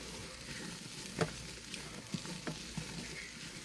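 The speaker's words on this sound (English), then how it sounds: "at least the sizzle has quieted down quite a bit." Quiet sizzling from meat browning for pot roast in a non-stick Instant Pot, a soft steady crackle with a few clanks of a utensil stirring.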